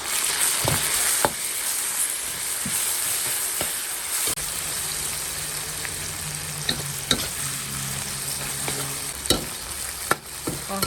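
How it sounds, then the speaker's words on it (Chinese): Continuous sizzling from a hot wok with intermittent scraping and clanks of a spatula as chopped chili, cured pork and Sichuan peppercorns are tossed and stirred. "好，这样就我们下入这个剁椒"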